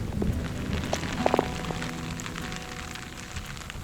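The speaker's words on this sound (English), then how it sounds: "And suddenly, it just turned to a bloody hailstorm." A sudden hailstorm on the climb up Mount Fuji, Japan, with dense pattering of ice on the ground and gear, a few sharper close impacts early on, and a steady roar throughout.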